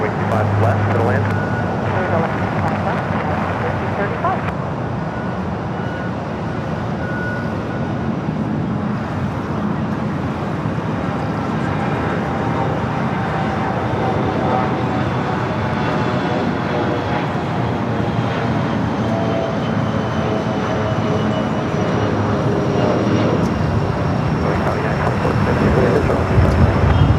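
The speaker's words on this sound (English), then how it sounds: "There we got the CRJ now rolling down at 25 right." A CRJ regional jet rolls down runway 25 right at LAX for takeoff, a broad sustained engine roar with a slowly shifting whine building toward the end, heard at a distance under intermittent talk.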